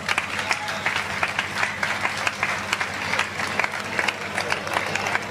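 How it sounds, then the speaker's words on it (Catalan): An outdoor crowd at a summer town festival in Sant Vicenç dels Horts claps to welcome the festival speaker, a steady patter of applause with sharper individual claps standing out and a low background hum underneath. "Rebem, sisplau, amb un fort aplaudiment a la pregonera de festes, Angelina Martorell"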